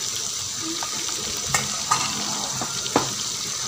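Whole spices including cinnamon and garam masala frying for village-style rajma, a steady sizzle with a few sharp clinks of stirring near the end; no talking.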